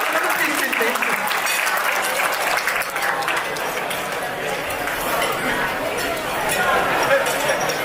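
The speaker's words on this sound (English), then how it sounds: "Ladies and gentlemen, put your hands together for Raj Verma." Sustained audience applause fills a banquet hall at a Republic Day celebration, dense clapping spread evenly through the room with a crowd murmur underneath, steady and fairly loud throughout.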